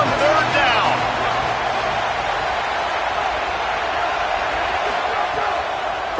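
Auburn college football stadium crowd roaring on third down, a loud, sustained wash of noise with a commentator talking over it.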